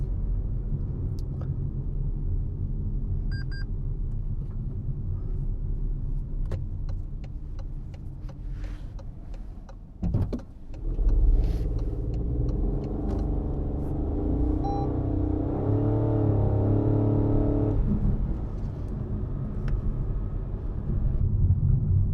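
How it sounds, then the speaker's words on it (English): A Toyota Aygo X running on cruise control brakes automatically to hold its speed, heard from inside the cabin as a steady low road and engine rumble with faint ticking and a brief thump partway through. "You can probably hear the car auto braking to control its speed."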